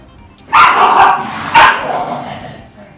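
Two loud, harsh barks ring out close by in quick succession from fighting dogs, sounding agitated and rough.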